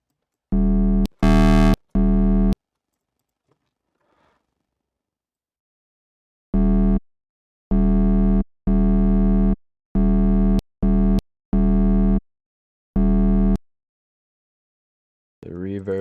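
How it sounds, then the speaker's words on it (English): Deep synthesized bass notes with rich, buzzy harmonics play in short bursts, a few quick hits then longer sustained tones separated by silences. "Let's do some harmonic basses."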